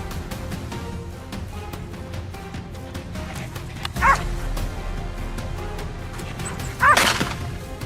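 Hunting dogs barking at night during a wild boar hunt, with two louder bursts of barking standing out over a steady background of faint yips and rustling field noise.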